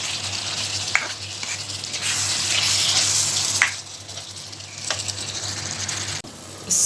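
Chole masala roasting over medium heat in a pan while being stirred, a steady close sizzle with scraping strokes and a few sharper knocks against the pan, alone without talk.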